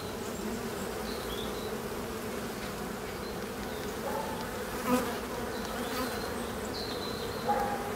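Honey bees at an apiary hive, with the frames open for inspection, buzz in a steady, close drone, with a few individual bees whining louder as they fly past.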